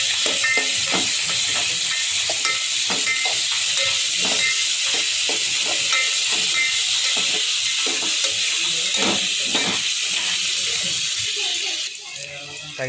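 Mushroom curry with ginger paste fries and sizzles in a pan as a spoon stirs it, steady hissing broken by irregular scraping strokes, close and fairly loud, with no talking.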